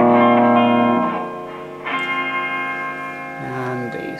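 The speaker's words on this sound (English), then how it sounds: "You can hear a bit of reverb there. I've got a reverb tank hanging on off the end there." An electric guitar played through a Marshall JCM900 amplifier with a spring reverb tank rings out with sustained, distorted chords and a washy reverb tail, fairly loud with brief pauses between strums.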